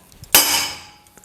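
A hammer strikes a center punch on a steel pipe while marking holes for drilling in a home workshop, giving one sharp metallic ring that decays over half a second, close and alone.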